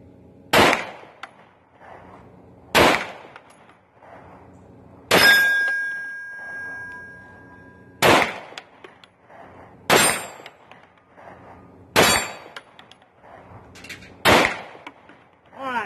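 A Springfield XDM pistol firing 9mm rounds at steel plates outdoors: seven loud, sharp shots spaced about two seconds apart, several followed by a ringing metallic clang from the struck plates.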